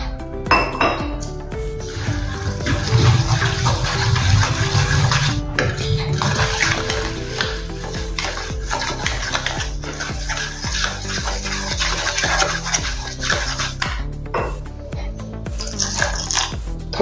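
Water is poured bit by bit into gram flour batter seasoned with salt and baking soda, and a utensil scrapes and clinks against the bowl while mixing, a steady, close-up sound of stirring with intermittent metallic clinks.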